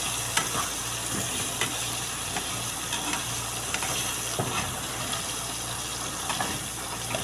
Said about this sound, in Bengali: আলুটা ভাজা নিলে ওগুলির সাথে একটু ভালো হবে, তাই আর কি আলুটা ভাজতেছি